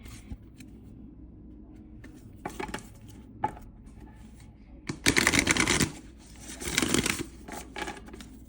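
Tarot cards being shuffled by hand, with soft riffling and tapping that builds into two louder, longer bursts of rapid card flutter near the end, heard alone without talk.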